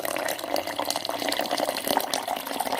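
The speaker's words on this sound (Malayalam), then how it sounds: "ഇതിലേക്ക് ഇനി വെള്ളം ഒഴിച്ചു കൊടുക്കാം." Water poured into a mixer jar of freshly blended guava juice gives a steady, continuous splashing pour that runs at an even level from start to finish, close by and with no voices.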